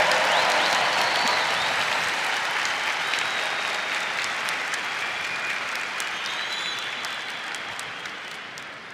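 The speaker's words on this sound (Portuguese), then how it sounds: "Agora aplauda esse irmão que quer" A church congregation applauds with a broad, sustained wash of clapping that carries on steadily and eases only slightly over nearly nine seconds.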